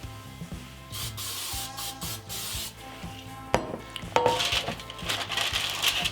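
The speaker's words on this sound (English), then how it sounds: "I really like parchment paper, so I'm going to go ahead and spray these" Several short hissing bursts from a can of cooking spray onto baking pans, mixed with clanks of the metal pans being set down and shifted nearby.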